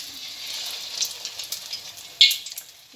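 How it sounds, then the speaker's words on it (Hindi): Flour- and egg-coated cutlet balls frying in hot oil, giving a soft, continuous bubbling sizzle with a few brief crackling pops, close by and without speech. "फिर इसको अंडे में डिप करेंगे इस तरह से और इसको हम कर लेंगे जी ऑयल में फ्राई"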